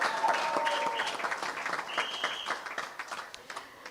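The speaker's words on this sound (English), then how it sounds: "we need to give her a special round of applause this evening" A crowd at a United Workers' Party town hall meeting gives strong applause that starts dense and loud, then thins into scattered claps, with a brief whistle or cheer partway through.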